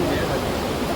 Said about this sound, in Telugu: ఈ ఫాగ్ వల్ల, ఈ వాటర్ ఫాల్ వల్ల ఆ తుప్పర వర్షం లాగానే ఉంది